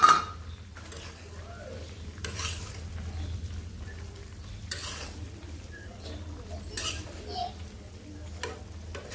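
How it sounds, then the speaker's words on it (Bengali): Mola fish chorchori stirred in a pan, with a steady low simmering sizzle and repeated soft scraping strokes of a spatula at close range, no talking. "ঢাকনাটা উঠিয়ে একটু নেড়ে ছেড়ে দিব।"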